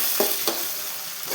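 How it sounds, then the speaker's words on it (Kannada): Chopped onions, coriander and green chillies fry in a hot pan with a bright, steady sizzle, broken by a couple of quick stirring scrapes, close by. "ಈಗ ಹಾಕಿಂದ ಸ್ವಲ್ಪ ಕೆಂಪು ಆಗೋ ತನಕ ಫ್ರೈ ಮಾಡಬೇಕು ನೋಡಿ"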